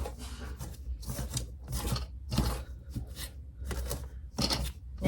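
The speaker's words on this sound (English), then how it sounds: "I just like my little handy dandy pastry cutter. And you just cut it up in there till it's in little bitty pieces." A hand pastry cutter chops and scrapes fat into flour in a bowl, making repeated crunchy, rasping strokes in bursts at close range, with no talking.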